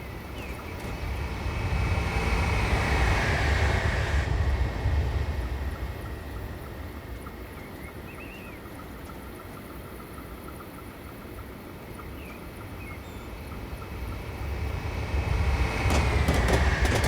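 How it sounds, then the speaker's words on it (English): Trains pass on the line between Carlisle and Preston in Train Simulator 2015, a rumbling roar that swells near, fades through a long steady rolling hum, then swells again at the end. "I'm going to pan over to the cutaway shots here of the trains that are going to pass us"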